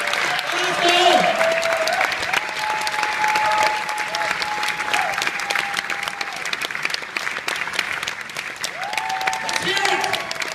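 Dense audience applause with cheering from a crowd at a film Q&A, steady and loud throughout, with whoops rising over the clapping and voices mixed in.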